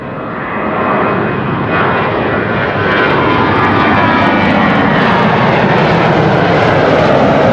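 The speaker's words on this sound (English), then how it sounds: "It's an airplane of sorts" An airplane at Amsterdam Schiphol Airport roars loudly and steadily nearby, its broad engine rumble building over the first seconds and then holding at full strength without voices.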